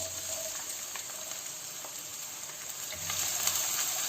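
Finely chopped medium onion fries in oil in a kadhai, a steady, close hiss and sizzle that swells slightly near the end, with no talking.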